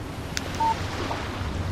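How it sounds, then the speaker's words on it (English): A phone in the Alan Wake video game gives a short, clean electronic beep as a text message alert, heard once over low steady ambient wind-like noise. "Text message from Barry."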